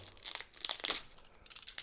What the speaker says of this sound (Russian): Вот скотч. И вот так вот бутылочку вы закрываете, чтобы она не открылась.